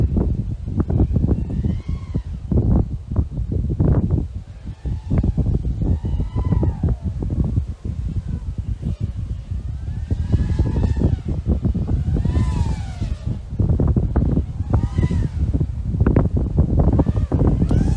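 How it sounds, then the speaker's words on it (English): Strong wind outdoors buffets the microphone continuously and loudly, with rumbling gusts throughout, while a small motor whines and swoops up and down in pitch under it. "There is a lot of wind today."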